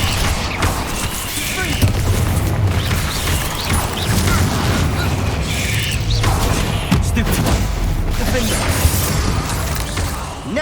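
Incendio fire spell cast in the video game Hogwarts Legacy, heard amid dense, continuous combat noise with crashes, rattles and mechanical clatter throughout, loud and busy from start to finish.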